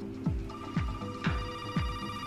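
A telephone rings with four evenly spaced electronic chirps, each sliding downward in pitch, over a faint steady tone. No one speaks.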